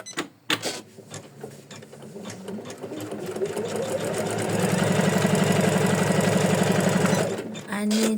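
A home embroidery machine in a 4x4 hoop stitches quilting lines on an in-the-hoop floral ornament or gift tag, its needle chattering in a fast steady rhythm that grows louder midway, with short pauses at the start and end.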